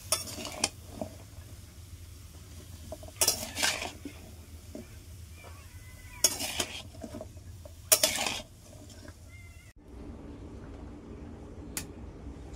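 Vegetable curry being stirred in a pot, heard as intermittent clanks and scrapes of a metal utensil against the pot over a low background of cooking noise, with a few louder bursts of clatter.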